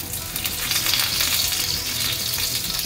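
Fish frying on a tawa gives a steady, close, loud sizzle of hot oil that runs unbroken for about three seconds, with no voices over it.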